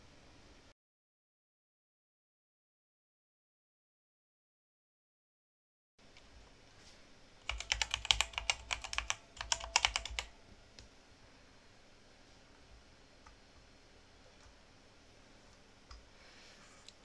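A computer keyboard is tapped in a quick flurry of clicky keystrokes during password entry, lasting about three seconds, close but fairly quiet, after a stretch of silence and then a low steady background hum.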